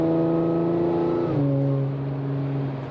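An Audi S5 with a custom exhaust drones steadily and loudly up close at moderate revs, its tone stepping down slightly partway through and then holding even.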